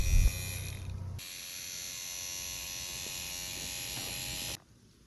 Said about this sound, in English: For quick sewing, I love this little hand vibrator tool.